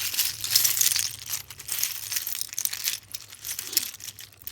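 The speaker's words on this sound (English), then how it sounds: "I am just shuffling now." Soft, continuous papery shuffling and riffling of tarot cards, close up and steady, with light flicks and rustles and no voices.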